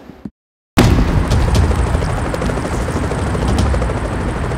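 A helicopter in a 3ds Max animation roars loud and close after a brief cut to silence, a dense low rumble with rotor thump that carries on steadily for several seconds.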